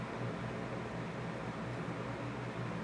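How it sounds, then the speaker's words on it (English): An electric fan runs in a hot bedroom, giving a steady, even broadband whoosh with a low hum underneath, constant throughout with no talking. "If you guys can hear that noise in the background, that's my fan."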